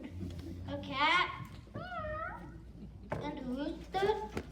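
A cat meows several times in a row, drawn-out whining calls with rising and falling pitch, close and fairly loud, separated by short pauses.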